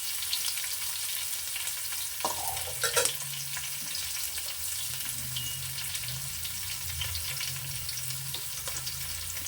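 Onions and green chillies frying on high flame for beef biryani, a dense continuous sizzle with occasional spatula scrapes and stirs, close and steady throughout.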